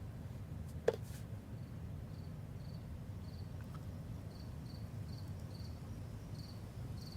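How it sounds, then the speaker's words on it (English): Crickets chirp at night in faint, evenly spaced pulsing trills that repeat in the background, with one brief click near the start. "Crickets."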